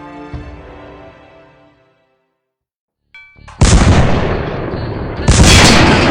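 Cartoon tank gunfire: a loud, close blast and then sustained roaring bursts of cannon and machine-gun fire, after a quieter musical passage and a short silence.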